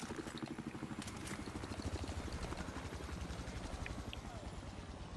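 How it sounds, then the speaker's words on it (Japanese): A helicopter hovers overhead in the video game Battlefield 4, a dense steady rotor chop throbbing low and continuous, moderately quiet and without speech. "あー、上でヘリが止まった"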